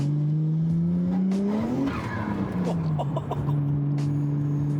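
A Nissan Skyline's engine rises and falls through a rev with turbo spool, a loud close droning tone that climbs then drops, with a brief rougher burst in the middle.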